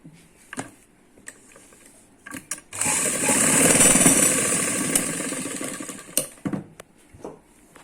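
Sewing machine stitching palazzo pants fabric, a steady mechanical whir running about three seconds between short bursts of handling clatter and knocks, close and moderately loud.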